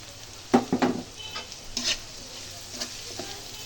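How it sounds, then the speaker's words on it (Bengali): Onion and garlic fry in a pan under a low sizzle, punctuated by several sharp scraping stirs and spoon clinks against the metal, louder early on and then sparser; no speech. "পেঁয়াজ রসুন লাল লাল করে ভেজে নিব"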